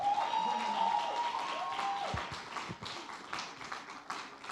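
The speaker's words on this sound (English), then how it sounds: "Please, if you are clapping, clap." Scattered light clapping comes from a conference audience, faint and uneven. Brief tones and tapping sounds are heard near the start.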